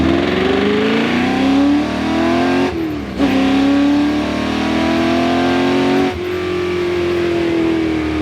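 A Ford GT40 engine at full throttle on a public street, revving hard and climbing in pitch through two upshifts, loud and close with no talk over it.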